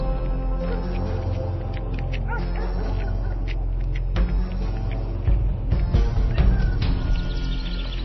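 A dog barks, yips and whimpers steadily through a dramatic scene, its calls overlapping a dense, continuous bed of other sound with a few louder bursts near the end.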